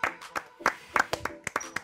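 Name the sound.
people clapping, applause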